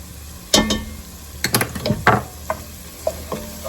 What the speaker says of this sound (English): now I'm going to add in 2 cloves of minced garlic